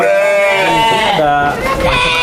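Garut sheep on a farm bleat loudly and close, several overlapping wavering calls filling the pen, with people talking nearby.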